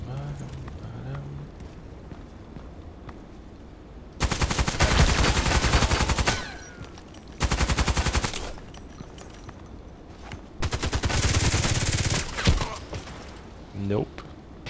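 Long-range pistol fire in a sniper video game, heard as loud broadband bursts of gunfire in three main clusters, each lasting a second or two, separated by quieter stretches with faint talk and game ambience.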